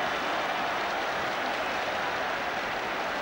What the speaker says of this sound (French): Et cela est fortement applaudi par le public.